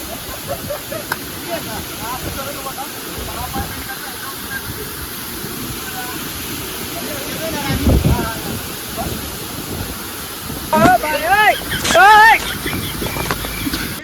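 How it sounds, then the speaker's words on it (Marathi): Steady broadband rush of the Savatsada waterfall fills the scene, continuous and moderately loud with wind buffeting the microphone, while people talk over it and a brief whistle-like tone appears near the end. "हा काही धबधबा बघा यार काय दिसतोय बघ"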